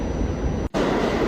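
Loud, continuous rumble and roar of a G train subway car in motion, with a brief sharp dropout near the middle before the noise resumes.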